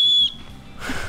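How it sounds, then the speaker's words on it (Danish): A small whistle on a toy arrow flying against the wind gives a sharp, high, steady whistle that cuts off abruptly, followed by quieter rustling and a short burst of noise. "grunden til, at de lyder, som om de piver, det er, fordi der er sådan en lille fløjteagtig her"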